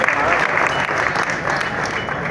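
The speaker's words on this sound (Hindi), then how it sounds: "अपने लिए जोरदार तालियां बजाते हैं" Dense, sustained clapping from a live comedy show audience fills the space, loud and steady without a break throughout.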